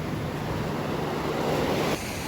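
Sea waves washing at a shoreline near a river mouth, a steady close roar of surf mixed with wind buffeting the microphone, ending in a slight drop in level.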